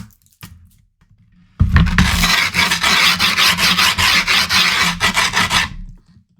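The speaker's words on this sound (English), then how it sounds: "Let's give it a quick scrape." Perforated grip tape on a Powell Flight skateboard deck gets scraped in a loud, continuous raspy rubbing that runs about four seconds in rhythmic strokes, after a faint knock and a quiet lead-in.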